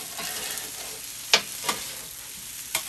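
Teriyaki chicken frying on a Steelmade USA flat top hibachi grill, a steady close hiss and sizzle with a few sharp scraping taps of a spatula stirring the meat, no talking.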